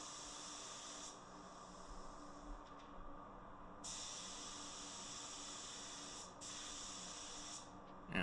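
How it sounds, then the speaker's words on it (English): A Porphis PRD 815 spray gun atomizing clear coat at 30 psi gives a steady, close airy hiss, cutting in and out in several long bursts as the trigger is pulled and released. "round 2 of the clear coat. Still spraying at 30 psi."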